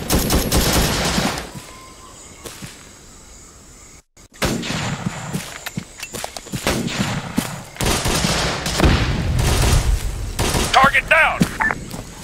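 Sustained gunfire from Arma 3 with a Vietnam War mod, dense overlapping rifle and machine-gun bursts with booming shots and a brief lull, while radio-style voices speak over the firefight.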